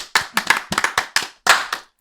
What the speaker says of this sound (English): Let's clap it up for Justin.